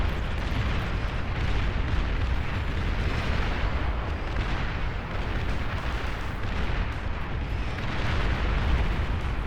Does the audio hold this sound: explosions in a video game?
yes